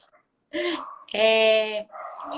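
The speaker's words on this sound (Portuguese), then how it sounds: "talvez os cachorros dela fossem latir" A dog gives a couple of sharp barks followed by a longer, whining yelp, nearby and fairly loud.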